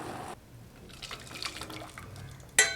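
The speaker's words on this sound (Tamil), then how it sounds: "வெள்ளம் நல்லா கரைஞ்சி கொதிச்சு வந்துருச்சுங்க இப்போ இதை வடிகட்டி வேறு பாத்திரத்துக்கு மாற்றிக்கலாம்" Melted jaggery syrup is strained through a filter into another vessel, giving a quiet liquid trickle with faint drips, then a sharp metallic clink of the pot near the end.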